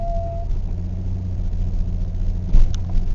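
A 2013 car's engine idles steadily just after a cold start, a low continuous rumble close by with a brief louder surge near the end; no one speaks.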